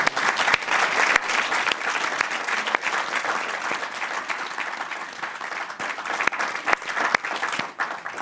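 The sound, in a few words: audience applause for an expert panel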